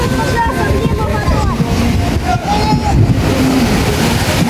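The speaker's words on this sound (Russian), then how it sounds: "он вызвал волну" Sea waves splash and wash onto a Black Sea beach in Crimea, a steady close surf rush with wind buffeting the microphone and faint voices in the background.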